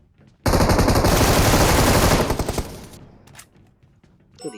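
Loud, dense automatic gunfire from PUBG Mobile erupts as a sustained burst of rapid shots for about two seconds, then breaks into scattered trailing shots and echoes before a few faint later cracks.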